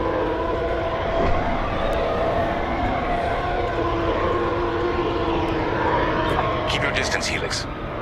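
Starfighter engines in the Star Wars Squadrons video game give a steady, loud roar that holds for the whole stretch, with a brighter whine and hiss creeping in near the end; talk sits beneath it.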